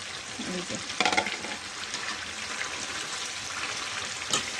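Beef tripe sizzles loudly in hot oil with already-fried potatoes while a spatula stirs and scrapes the pan. A few sharper clanks stand out over the continuous frying hiss, and no voice is heard.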